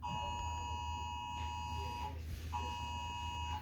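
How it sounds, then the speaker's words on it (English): An electronic alarm plays a steady tonal beeping pattern with sustained harmonic pitches, briefly breaking off midway before resuming, close and clear with no talking. "I should rate the iPhone alarm."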